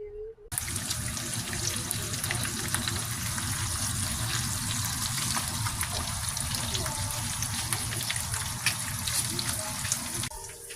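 A container filling with water inside a fridge in winter, a steady close gushing stream running unbroken for about ten seconds, with no talk.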